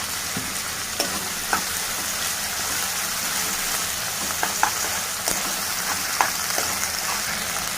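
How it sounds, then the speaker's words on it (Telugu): Ginger garlic paste fries in a pan for a drumstick and green pea curry, a steady moderate sizzle broken by repeated clicks and scrapes of a spoon stirring. "ఇప్పుడు అల్లం వెల్లుల్లి పేస్ట్ వేసాము ఇది బాగా కలుపుకోవాలి"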